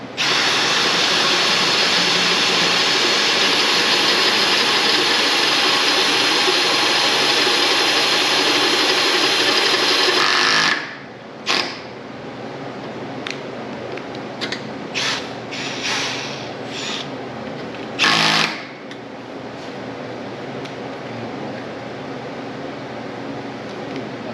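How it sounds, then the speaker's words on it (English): A loud, steady power drill fitted with a half-inch bit whines continuously for about ten seconds, then stops, leaving a lower hum with a few clanks and knocks. "Now I'll drill with the bigger drill bit, 1/2 inch"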